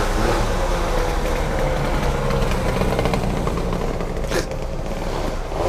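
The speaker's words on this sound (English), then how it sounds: "God, I hate mopeds. All that noise and no power." A small moped engine passes close by an open-top Mazda MX-5 with its roof down, a steady loud buzzing drone over road and wind noise.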